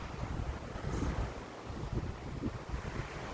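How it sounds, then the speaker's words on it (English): Faint wind buffeting the microphone mixed with a soft wash of surf on a beach, a steady low rushing noise with no speech. "it is a beautiful day out here at the beach"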